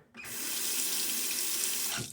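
Tap water runs steadily over a Timeless SS .68 open-comb safety razor, a constant close splashing hiss for about two seconds that starts and stops abruptly, with no voices.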